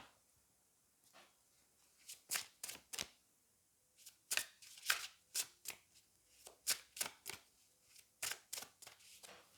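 Tarot cards shuffled by hand in quiet, close bursts of crisp riffling and flicking, several quick clusters with short pauses between them.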